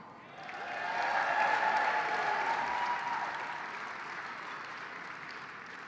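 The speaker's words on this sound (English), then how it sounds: "give all of these outstanding leaders, as well as all Realtor leaders who invest in RPAC each year, another round of applause" Audience at a Realtor business conference applauding RPAC donors, a swelling round of clapping that peaks early and then tapers off, steady and moderately near with no talk over it.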